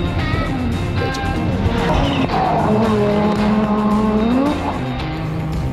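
An Audi S3 driven hard on the road, its engine note rising and falling through gear changes with a sustained roar and faint tyre noise, fairly close and loud throughout.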